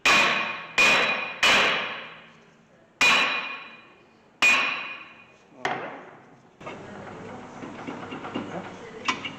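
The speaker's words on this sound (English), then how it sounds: "Let's hit it a few times with the hammer." Six loud metallic hammer strikes on a stuck brake rotor of a 2013 Honda Civic ring out at irregular intervals, each clang fading slowly before the next, followed by rattling and scraping.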